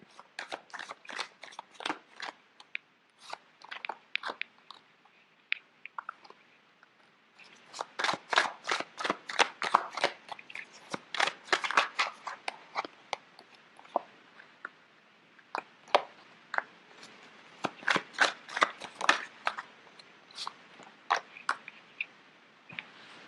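Tarot cards being shuffled, a long run of quick papery riffling bursts, close and fairly quiet, with short pauses between shuffles.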